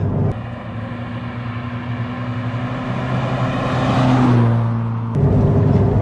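A naturally aspirated Renault Clio 182 hot hatch engine revs high and hard, its note climbing and swelling before dropping back, loud and close with no voices.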